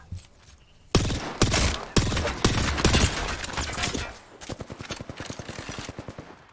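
Rapid bursts of gunfire from a video game crack out loud and close, heavy shots clustered early then a quicker rattling string of fire toward the end, with no talk.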